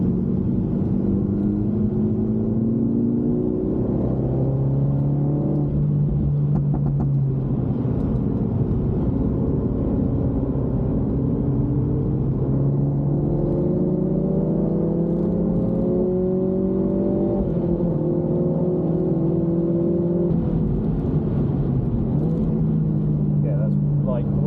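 A Mini Cooper S engine drones and revs on a race track, its pitch climbing and falling through gear changes in a loud, close cabin, while someone talks over it.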